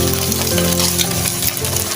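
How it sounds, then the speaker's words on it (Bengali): An egg fries in a generous amount of oil, giving a dense, steady crackling sizzle that stays loud and close for the whole stretch, with no talk over it. "ডিমটা এখন একটু তেল বেশি দিয়েছে, ডিমটা ফোলা ফোলা হয়েছে এবং সুন্দর ফ্রাই হয়েছে"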